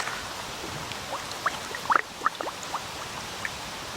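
Water gurgling and bubbling up close as a collapsible water bottle is filled in a creek, with a few distinct glugs and plops over a steady trickling background.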